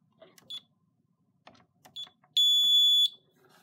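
A home alarm keypad sounds a fire trouble warning after a smoke detector is removed: a few short beeps among faint clicks, then one loud, sustained tone lasting under a second.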